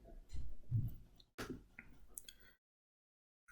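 A computer mouse clicks while opening a link during a PyCharm download on a Python setup; quiet, close clicks and rustle stop abruptly, then silence.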